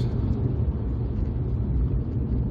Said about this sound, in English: Just even the noise of the engine is, is fantastic.